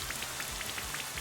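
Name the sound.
rain from the Rain Dance move in Pokemon Sword & Shield video game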